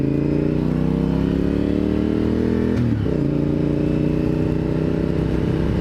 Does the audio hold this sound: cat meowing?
no